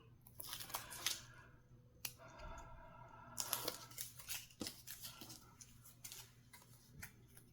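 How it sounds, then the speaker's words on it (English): Backing paper being peeled and crinkled while a prayer board is assembled, with a series of close, quiet tearing and crackling rustles and small taps in a still room. "Peel this off and put this down."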